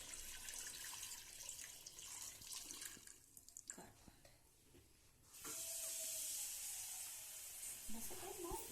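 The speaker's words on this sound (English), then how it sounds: "adding water, 2 cups of water in it" Running water fills a pot on a stove with a broad steady rush that starts midway, after some clattering and handling noises; a voice is faintly present.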